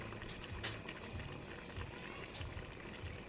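Coconut milk stew with banana heart, papaya and dried fish bubbling in a pot, a steady soft simmering hiss with low gurgling pops throughout, moderately close and fairly quiet.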